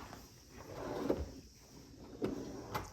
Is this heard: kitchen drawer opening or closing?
yes